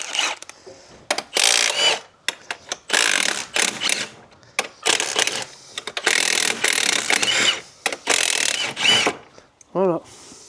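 A mechanism is loosened with a ratchet, giving rapid bursts of clicking in repeated spurts separated by short pauses, close and loud.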